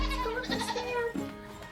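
A show goat on a farm bleats in a sustained, wavering cry that breaks briefly and resumes, loud and close with no talking.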